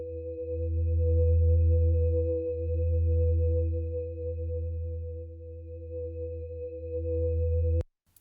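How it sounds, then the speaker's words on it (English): Soloed synth pad run through a stereo volume-effect plugin, a steady sustained tone with slow swelling loudness that holds for about eight seconds and then cuts off abruptly. "when I start with the synth pad and solo it. So you hear what this plugin is doing to the synth pad."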